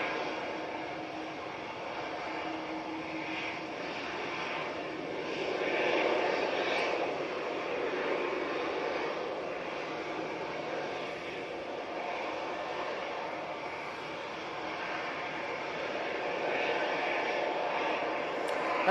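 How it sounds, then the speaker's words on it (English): An EasyJet Airbus A320-200 departing for Tivat gives a fairly distant, sustained jet engine roar that swells gently around the middle and lingers steadily, heard without talk. "That EasyJet was off to Tivat, or Tivat, using the A320-200."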